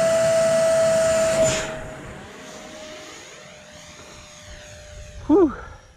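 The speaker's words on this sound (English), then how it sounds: "Here goes the maiden of the E-Flite F-15." An E-Flite F-15 Strike Eagle RC jet on a 4S 2200 pack makes its maiden flight, a loud whining electric ducted-fan roar near at first, then fading into a steady distant hum with a brief close burst near the end.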